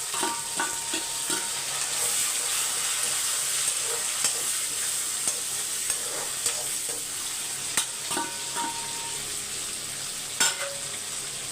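About two hundred grams of whole small shallots fry in a pan, giving a continuous sizzle with scattered scraping stirs and clicks of a spoon against the pan.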